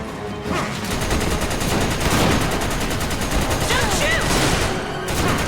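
Rapid automatic gunfire from Resident Evil 5 rattles densely and loudly throughout, with bursts overlapping in continuous volleys and brief gaps near the start and end.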